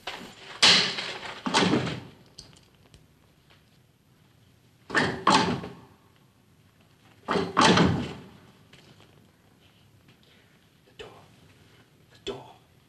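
Several heavy door thuds and slams from the 1968 sci-fi film Barbarella, arriving in separate loud bursts spread over about thirteen seconds, with quiet gaps between them.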